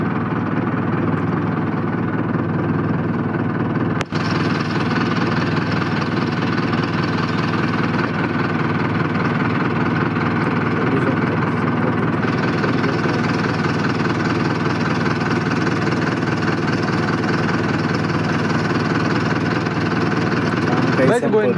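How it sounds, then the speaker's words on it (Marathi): A tractor engine runs loud and steady at close range, a continuous droning rumble with one sharp knock early on, while a stuck tractor is pulled free in a farm field. "ट्रॅक्टर काढायला आलो, बघू शकता तुम्ही फसून गेला आपल्याला."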